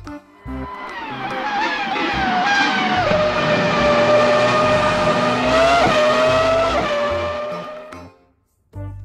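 A toy race car gives off a loud, sustained engine roar with a rising whine and tire-squeal tone, building over several seconds before cutting off abruptly near the end.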